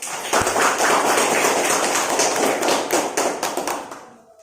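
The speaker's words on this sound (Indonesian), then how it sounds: "Give applause to your friends." Students in a classroom give a round of applause for classmates who have just read aloud, a dense, steady patter of many hands clapping for about four seconds before tapering off.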